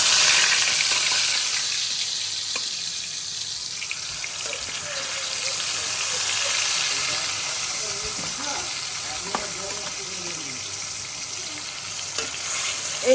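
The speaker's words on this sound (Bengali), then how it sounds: "চলো, তেল মাছ বসিয়ে দিলাম।" Pangas fish fries in hot oil in a home kitchen, giving a steady, loud sizzle and crackle that runs the whole time, with faint scattered clinks and no speech over it.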